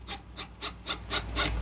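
Wood screws are worked out of a speaker cabinet, giving short scraping and rubbing bursts in an uneven rhythm, close up and fairly loud.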